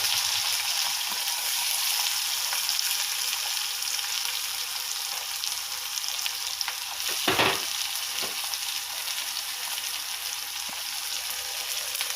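Onions and green chillies fry in a pan with a dense, constant close-up sizzle, interrupted once by a brief scraping stir, with no voices.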